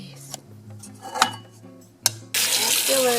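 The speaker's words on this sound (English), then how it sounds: "Fill it with cold water" A kitchen tap gushes cold water into a pot, starting abruptly after a few clinks of cookware and running loud and steady to the end.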